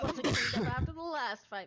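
A sneeze at the start, sharp and close, followed by people talking.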